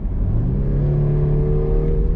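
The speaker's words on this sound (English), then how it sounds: "the audible noise of the turbocharger is there" Steady turbocharger whine with engine drone from a 2021 Volvo S60 R-Design, Polestar tuned, a continuous loud hum with a rising whistle and no voices.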